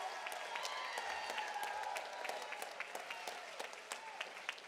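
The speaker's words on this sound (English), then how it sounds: "I want y'all to keep clapping" A crowd at a voting rights rally in Jackson, Mississippi applauds Bennie Thompson, a steady wash of clapping heard at a moderate distance, with a few sharper claps standing out.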